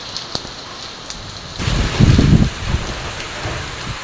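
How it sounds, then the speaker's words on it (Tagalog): Steady heavy rain hisses across the whole clip, with a gust of wind rumbling up partway through; no voices. "Malakas yung ulan sa kahangin."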